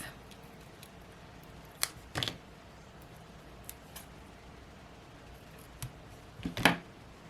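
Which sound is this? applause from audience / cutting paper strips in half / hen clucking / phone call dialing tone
cutting paper strips in half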